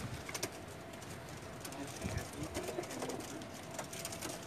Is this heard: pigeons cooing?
yes